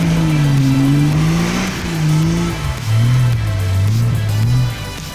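A car engine revs near a forest, loud and close, the pitch rising and falling in two long swells before dropping lower and holding steady, alone with no talk.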